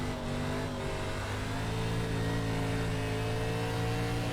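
A race car in the iRacing ARCA Menards Series at Knoxville drones steadily through a corner, its engine tone holding and shifting slightly while the car slides, heard loud and continuous with no talk.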